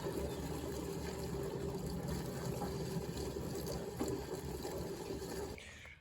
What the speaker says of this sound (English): put some fuel in this thing without spilling the precious gold as I'm sloshing it everywhere